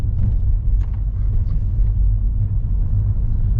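A car driving along a road, a low steady rumble of engine and tyres heard from inside the cabin, continuous and fairly loud with no talking.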